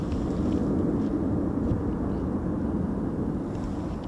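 Eurofighter Typhoon jets take off at RAF Coningsby on a frosty morning, a steady, distant, rumbling roar that holds evenly for the whole stretch.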